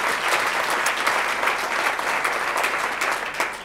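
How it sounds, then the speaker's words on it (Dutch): An audience at a Venray awards evening applauds, dense steady clapping from many hands that carries on throughout, loud and full, with no speech over it. "Applaus."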